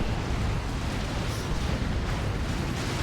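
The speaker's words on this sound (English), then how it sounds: "And that's a Creeping Barrage." A creeping artillery barrage pounds the field in Warhammer 40,000: Dawn of War 2, a dense, unbroken roar of overlapping explosions that stays loud and heavy from start to finish.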